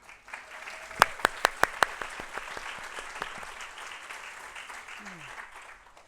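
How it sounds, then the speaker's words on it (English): Applause from the audience at a School of Nursing pinning ceremony, opening with a few sharp close claps and then settling into a steady, moderate round of clapping, with a voice briefly heard. "Please join me in another round of applause for the exceptional nurses."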